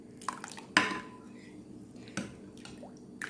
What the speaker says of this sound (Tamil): இப்போ இதெல்லாத்தையும் நல்லா கலக்கி விட்டுடுங்க.